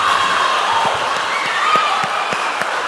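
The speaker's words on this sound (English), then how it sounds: "can we give a resounding round of applause for Ransford?" Audience applause and cheering at a school quiz competition, a steady, loud wash of clapping and crowd noise that lasts throughout.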